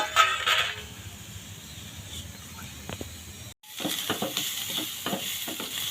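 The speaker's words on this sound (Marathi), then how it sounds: "हे पहा मी आता लगेच कांदा परतायला टाकणार आहे" Onion sautéing in a pan for egg bhurji, a soft sizzle at first with a quiet stretch, then after a brief break a brighter frying hiss with several sharp scrapes and clicks of stirring.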